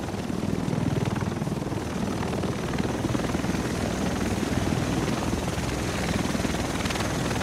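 A helicopter in the video game The Division roars steadily and loudly throughout, a dense continuous rotor and engine drone with no break.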